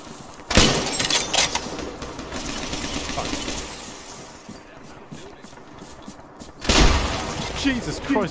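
Grenade explosion in the military shooter game Arma 3, two sudden loud booms several seconds apart over a steady background rumble, with players talking.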